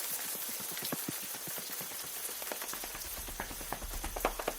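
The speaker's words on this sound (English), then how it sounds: "But it starts to rain." Rain falling outdoors, scattered pattering drops landing irregularly on a surface, with a low rumble building toward the end and no voices over it.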